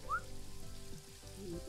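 Rain effect in a horse riding video game, a soft patter of drops with a couple of brief whistle-like chirps, quiet and close with no speech.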